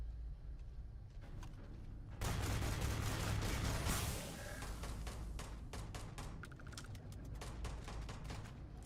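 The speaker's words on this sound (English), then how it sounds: "We got a gunfire." Gunfire in the video game Starfield: a burst of rapid shots erupts, then scattered sharp cracks and clicks continue at a moderate distance.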